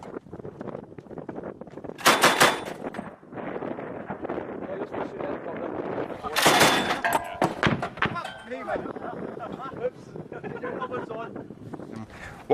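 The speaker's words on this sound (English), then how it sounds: "firing a automatic grenade launcher off the top of a Hummer" An automatic grenade launcher fires from the top of a Hummer patrol vehicle in Afghanistan, with sharp bursts of reports around two and six and a half seconds amid wind and background noise while people talk.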